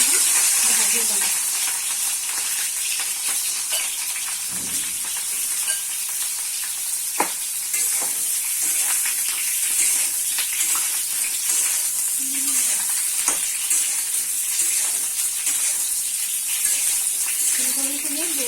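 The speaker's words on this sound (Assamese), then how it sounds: "ফুলকবিখিনি অলপমান ভাজি ল'ম" Cauliflower pieces fry in a hot pan with a loud, steady hiss and sizzle, broken by occasional stirring scrapes, while faint voices can be heard in the background.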